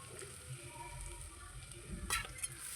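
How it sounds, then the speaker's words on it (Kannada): Curry leaves and crushed garlic fry in a pan for puliyogare, giving a steady low sizzle with a few brief louder crackles and scrapes near the end. "ಇದು ಸ್ವಲ್ಪ ಫ್ರೈ ಆಗಲಿ"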